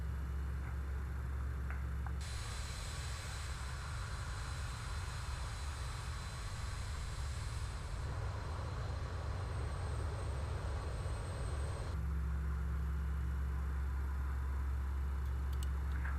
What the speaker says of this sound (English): we go engine number 1 and we select engine number 1 and start